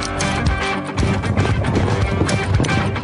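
Thoroughbred racehorse hooves clatter steadily in a dense film-trailer mix, with busy layered sound and a possible whinny.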